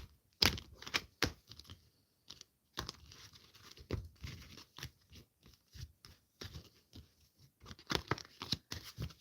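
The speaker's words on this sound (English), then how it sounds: "let me shuffle a little bit" Tarot cards are shuffled up close in irregular bursts of sharp crackling, riffling and flicking, with short pauses between handfuls and no talking.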